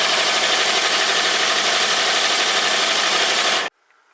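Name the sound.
stitch drilling steel end plates for smoke box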